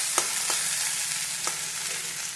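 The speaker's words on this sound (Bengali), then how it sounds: "আলু ভাজা হচ্ছে" Potato slices fry in a hot pan, a continuous close sizzle with occasional stirring scrapes and light ticks, and no talking.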